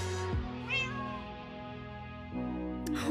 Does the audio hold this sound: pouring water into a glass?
no